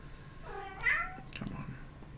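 A hungry domestic cat meows once, a clear rising-falling cry close to the microphone, followed by faint low rustling against a quiet room background.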